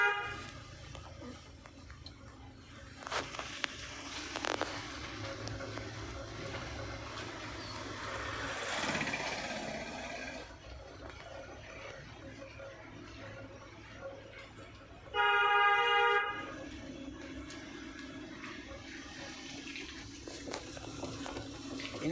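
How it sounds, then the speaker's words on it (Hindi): In slow city traffic, a car horn gives one long honk lasting about a second, clear and prominent over the muffled in-car road noise and engine rumble. "एक बार आपको लॉन्ग हॉर्न देना है तो दाएं बाएं से अगर कोई आ रहा तो वो अलर्ट हो जाए।"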